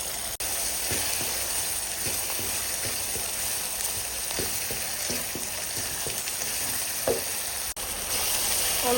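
Blended onion with ginger-garlic paste fries in a pan, making a loud continuous sizzle. Repeated scraping stirs sound through it, and the hiss cuts out briefly twice.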